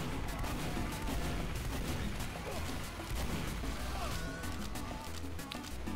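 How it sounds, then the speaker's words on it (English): Scattergun blasts and other gunfire from Team Fortress 2 played on its lowest settings, a busy, dense barrage of shots and impacts running steadily throughout with no clear gaps. "I'm taking pot shots with a scattergun."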